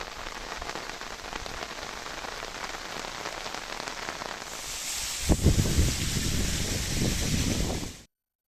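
Heavy monsoon rain pours steadily in Wayanad, Kerala, a dense continuous hiss that swells louder and rougher toward the end, with no voices.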